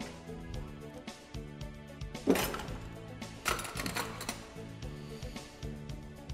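A metal spoon picked up and clinking against dishes while preparing salmon in puff pastry with seasoned tomatoes, giving a few sharp, close clanks amid busy kitchen clatter and background music.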